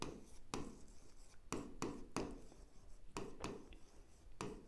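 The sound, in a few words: writing on paper with a pen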